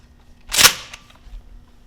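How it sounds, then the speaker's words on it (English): A single sharp shotgun blast fires a slug outdoors, one loud report with a brief fading tail. "so we're going to shoot the slug first"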